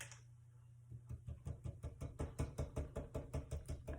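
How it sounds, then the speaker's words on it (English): A glitter epoxy tumbler is tapped repeatedly, a quick run of a dozen or so light knocks in a fairly even rhythm after a brief hum, close and moderately soft. "I just tap it."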